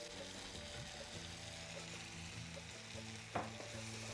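Crushed pepper and garlic sautéing with fenugreek for a Jaffna-style prawn curry, with a faint, low frying hiss, a steady background hum and one sharp utensil knock near the end, and no talking.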